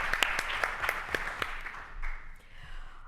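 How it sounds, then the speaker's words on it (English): A small conference audience gives a brief round of applause at a forum, moderately loud claps with a few sharp individual hits, fading after about two seconds into quieter scattered clapping. "a round of applause."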